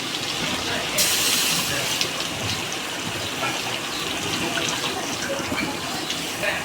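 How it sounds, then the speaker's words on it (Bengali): Hot water pours into a pan of chicken and potatoes, giving a steady hissing, sizzling gush that swells sharply at the start and then settles into continuous bubbling steam. "একটু গরম জল দিয়ে দিলাম।"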